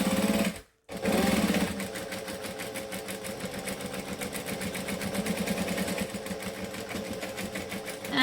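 Home sewing machine stitching a bag seam at about 3.75 stitch length, a steady loud rapid mechanical whir with fast rhythmic needle clatter, briefly stopping near the start and then running continuously.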